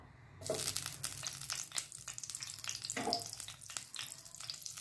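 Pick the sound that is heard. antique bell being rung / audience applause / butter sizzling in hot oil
butter sizzling in hot oil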